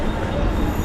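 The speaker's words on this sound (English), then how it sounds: "And the other train is move on." Rumble and clatter of a passing train on an Indian local railway, a steady close wash of wheel and carriage noise with no break.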